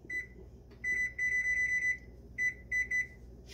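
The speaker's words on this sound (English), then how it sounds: "We're going to set the timer." Electronic beeps from a kitchen timer, a short chirp followed by bursts of rapid repeated beeping, close and clear over faint background noise.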